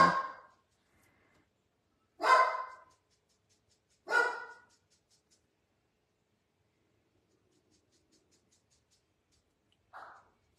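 A small guard dog barks three times in a spaced sequence, each bark loud and close, followed by a long quiet stretch and a brief fainter sound near the end.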